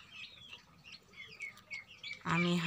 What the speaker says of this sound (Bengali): আমি হাঁসের বাচ্চা মুরগির বাচ্চা একসাথে রেখেছি, ওরা একসাথে খাচ্ছে